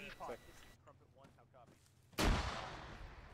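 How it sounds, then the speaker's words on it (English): A concussion grenade exploding inside a building in the video game Arma 3, one sharp, loud blast near the end that follows brief talk and quieter game sounds. "It went in, concussion grenade in."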